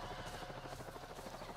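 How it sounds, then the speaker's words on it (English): Helicopters in the video game Avatar: Frontiers of Pandora give off a faint, steady rotor thrum with a rapid pulsing beat, sounding distant and continuous, with no talking over it. "I hear the choppers."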